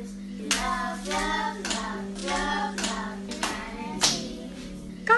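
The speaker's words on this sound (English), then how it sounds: "Let's clap while we do this." Hands clap in a regular beat along with voices chanting in a steady rhythm, the claps landing as sharp, evenly spaced hits beneath the close, sung repetitions.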